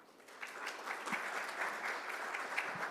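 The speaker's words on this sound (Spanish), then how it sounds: "Recibámoslo con un fuerte aplauso." Sustained audience applause at an international seminar on labour migration in Latin America and the Caribbean, steady clapping from a seated crowd welcoming a speaker to the podium, moderately loud and continuous with no talk over it.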